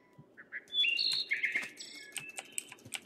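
A bird in the Crazy Craft video game gives a few short high chirps and tweets. Quiet game sounds and soft clicking run underneath.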